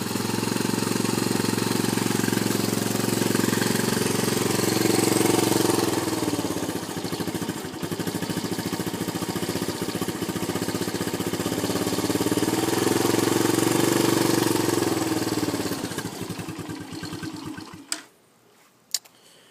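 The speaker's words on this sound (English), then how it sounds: "Once she's warm, it idles." A three-wheeler engine idling once warm, a steady close rattling chug that runs for most of the clip before cutting out near the end, followed by a couple of faint clunks.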